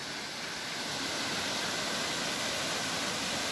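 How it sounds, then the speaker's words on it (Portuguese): The Cascata do Avencal waterfall in Urubici roars steadily as a dense, even rush of falling water, constant throughout with no voices. "E ali atrás já consigo ver a cachoeira."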